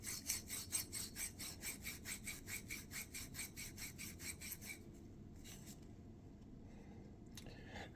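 A coarse red Scotch-Brite pad scrubs a metal kitchen faucet spout in quick, rhythmic rasping strokes, close and steady for about five seconds, then stops, leaving faint handling noise.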